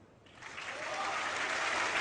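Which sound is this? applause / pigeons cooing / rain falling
applause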